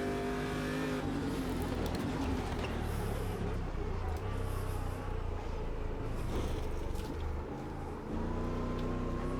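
A USAC Stadium Super Truck engine roars continuously in the racing game Automobilista 2 on the Long Beach street circuit, held in second gear with rising and falling revs, loud and up close.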